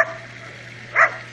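A dog lets out a single short bark around the middle of a quiet stretch, with a faint hum underneath, while dogs wait for fish scraps at a fishing spot on a rural property near Curitiba.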